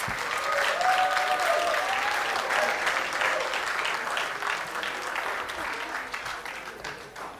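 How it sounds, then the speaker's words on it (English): An audience at a TEDx event at a Nigerian university applauds a professor being honoured with a plaque. The dense, lively clapping comes with cheering voices and gradually fades toward the end. "Please keep clapping."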